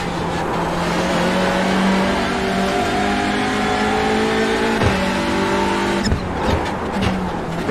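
Touring cars race at Imola in the iRacing simulator, engines droning loud and steady with rising, shifting pitch as gears change, and a brief rougher patch late on as the pack runs closely together.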